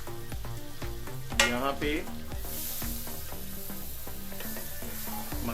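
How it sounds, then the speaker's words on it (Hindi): Butter and oil melt and sizzle in a pan for a creamy chicken jalfrezi, a continuous fry crackle with repeated utensil scrapes and a brief clatter, while a voice speaks a few words over it. "मक्खन को पिघला लिया,"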